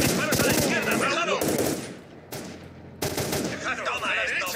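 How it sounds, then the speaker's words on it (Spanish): Rapid bursts of automatic gunfire in S.T.A.L.K.E.R. rattle loudly, breaking off briefly before resuming in dense volleys. "¡Disparos a la izquierda,"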